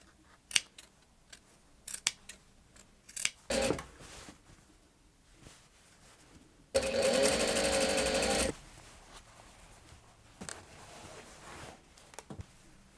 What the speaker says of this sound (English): You want to snip as close as you can to that seam that you've just done, but not through it